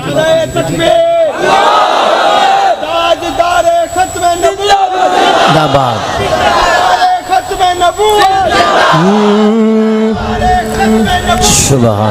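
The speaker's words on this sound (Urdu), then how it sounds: "اب یہ بھائی کھڑے ہو کے نعرہ لگائیں گے" A large gathering at an Islamic religious address shouts back loud, unified responses to a leader's slogan chants, repeating in several forceful waves close to the microphone.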